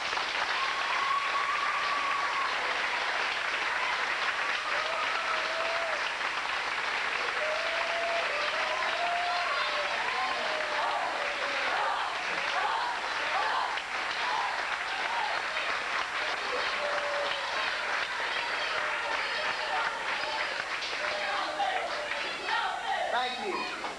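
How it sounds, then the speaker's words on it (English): Sustained applause from an audience at a 1985 swim team awards banquet, an even wash of clapping held for the full length with faint crowd murmur beneath. "I'd like to get one more applause for the 1985 SYS Senior Champions."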